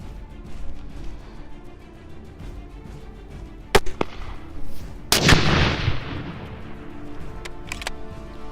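An M203 grenade launcher fires, with a sharp crack, then a second distinct blast follows a second or so later as the grenade lands at fairly close range outdoors, leaving a fading rumble and a couple of faint pops afterward.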